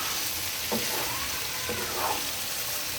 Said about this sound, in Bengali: এই যে আমার পাস্তাটা এখন দিয়ে সুন্দর করে নেড়ে চেড়ে নেব